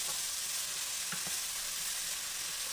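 Hibachi-style fried rice with fresh vegetables, green onion and carrot sizzles in a pan as it is stirred, a continuous bright frying hiss with a couple of brief scraping clicks.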